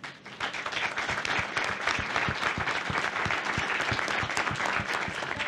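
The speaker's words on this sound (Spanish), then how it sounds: "A todos ellos los recibimos con un cálido aplauso" An audience at a public forum on the circular economy gives warm, sustained applause, a dense and continuous crowd clapping that holds steady throughout at a moderate distance.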